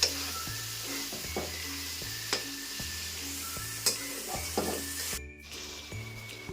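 Prawns with spices, cooked with elephant foot yam, fry in a pan with a steady low sizzle under rhythmic spatula strokes roughly every half second to second, near and without talk.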